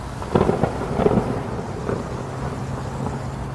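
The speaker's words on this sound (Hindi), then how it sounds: "बहुत तेज तूफान आने लगता है।" A cartoon storm in a forest: a steady rumble of strong wind and rain carries a few dull thunder-like thumps early on, then settles into a continuous roar with no speech.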